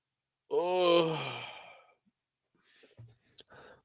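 A person yawns at a live convention stream: one long, drawn-out voiced exhale that swells and fades over about a second and a half, followed by a few faint breaths and small clicks.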